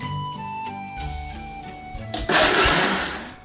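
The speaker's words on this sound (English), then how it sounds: "Turn the blender on. It's a little noisy." A blender mixing a creamy salad dressing with olive oil revs up from a few stuttering whirs into a loud, steady roaring buzz near the end, close by.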